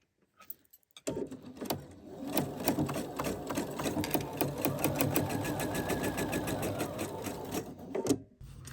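Chain-stitching sewing machine running steadily for about seven seconds on inner lining pieces of a welder's cap, a close, continuous mechanical whir with rapid needle clatter, starting after a few soft handling clicks and stopping near the end.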